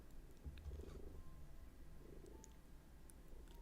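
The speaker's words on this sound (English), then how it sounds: "lots of purrs." A cat purring close by but faintly, a soft low rumble that swells in gentle rhythmic pulses through an otherwise quiet room.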